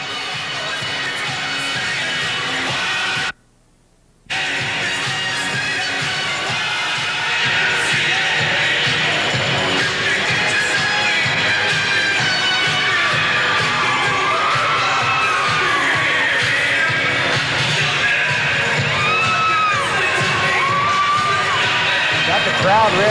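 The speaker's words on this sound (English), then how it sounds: "Crowd revved up." A large indoor crowd at a basketball game roars and cheers continuously, with shouts and whoops rising over a loud arena din and music, briefly cutting out early on.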